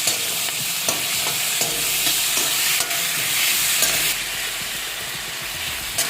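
Tomatoes frying in a pan for tomato chutney give off a steady, loud sizzle and hiss, with repeated scraping clicks from a spoon stirring throughout. No voice is heard.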